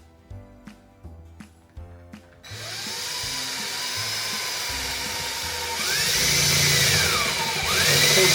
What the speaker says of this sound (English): So we're going to go ahead and drill close to the hole.